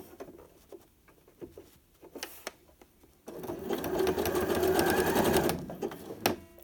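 Sewing machine running a zigzag stitch on elastic, starting after quieter handling sounds and whirring steadily and close for about two seconds before stopping.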